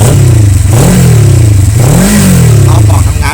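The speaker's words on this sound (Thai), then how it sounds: "เดี๋ยวขออนุญาตเปิดเครื่องดูรอบการทำงานเครื่องยนต์" A 2013 Kawasaki Versys 650 motorcycle engine idles loudly up close, rising in two brief revs before settling back to a steady throbbing idle.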